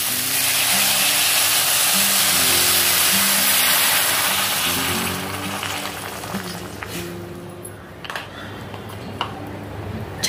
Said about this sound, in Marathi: गरम पाणी घालून घेते।